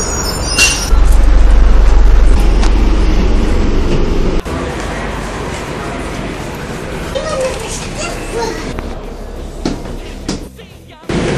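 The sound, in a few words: city bus arriving at the stop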